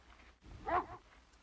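A dog on a cold road gives one brief, soft whimper that swells and fades, fairly close, over a quiet background with no talk.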